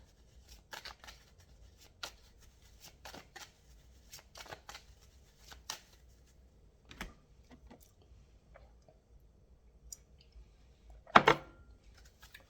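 A deck of tarot cards is shuffled in soft irregular bursts of riffling and tapping, close and quiet, with one louder flurry near the end and no talking.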